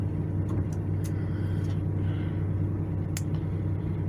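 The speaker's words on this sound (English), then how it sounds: "there comes a couple big trucks" Big trucks passing a rest area in Mississippi, a steady loud low rumble of heavy engines and tires that holds throughout, with a few faint higher clicks and knocks over the top.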